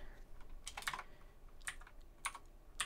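Keys clatter on a computer keyboard in short, quick clusters of taps with brief pauses between them, close and fairly soft over a quiet room.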